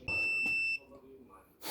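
A digital multimeter gives a steady electronic beep of about three-quarters of a second as it powers down into sleep mode while spark plug cables are tested on a Mercedes R107 450SL, followed by a short pause.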